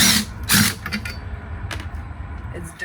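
Power drill backing screws out during an RV repair, a few short whirring bursts over a damp, noisy background, fairly close, with no speech.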